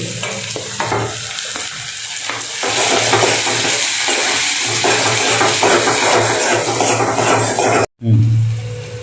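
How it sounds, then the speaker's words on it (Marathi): Capsicum, tomato and coriander sauté loudly in a pan, a dense crackling sizzle with constant stirring scrapes, broken by a brief silent cut near the end before the frying resumes. "आता चांगल्या पद्धतीनं परतून घ्यायची"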